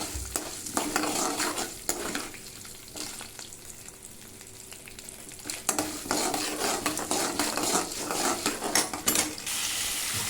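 Onion and tomato sautéing in a pan for mint chutney: a crackling sizzle under frequent clattering scrapes and clinks of a metal spoon stirring, busier and louder toward the end.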